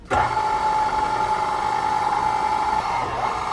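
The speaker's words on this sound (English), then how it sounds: "we're gonna bring this over to my KitchenAid to start kneading it" KitchenAid stand mixer kneading bread dough with a dough hook, its motor starting up abruptly and then whirring steadily and loudly at close range.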